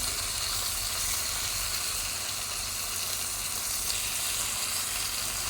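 Masala-coated fish frying in a pan, with a steady, dense, close sizzle holding evenly throughout and no voices.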